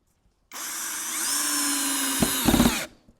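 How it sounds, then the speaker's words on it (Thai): A Masaru cordless drill fitted with a screwdriver bit drives a screw: a steady close motor whine for over two seconds, with a couple of short grinding bumps near the end before it stops. "ใส่ดอกไขควงเข้าไป ขันไขควงต่อ ขันไขควงต่อ"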